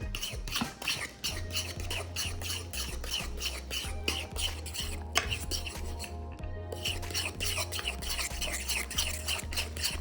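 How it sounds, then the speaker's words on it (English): A utensil stirs egg into cottage cheese in a bowl, making a rapid, regular series of soft wet scrapes and taps that keep going without a break. "now all you're just gonna do is start mixing until it just looks like cottage cheese"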